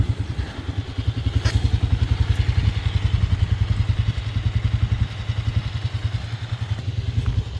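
A Bashan 250 shaft-drive quad bike with a four-speed manual gearbox idles on choke while warming up, its engine thumping in a steady, fast, even pulse that stays close and loud throughout, with no voices.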